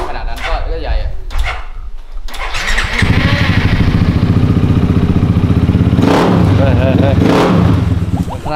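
A motorcycle engine with a big-bore setup cranks over with a few stuttering attempts, then catches and settles into a loud, steady idle close by, with a brief rev near the end.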